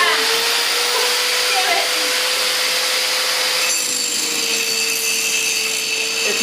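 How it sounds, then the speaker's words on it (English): An angle grinder grinds a weld on a steel rotary engine stand adapter, giving a steady, loud, bright whine with a constant hum that shifts in tone midway and runs unbroken to the end. "So can you just grind me about an inch right there in the middle?"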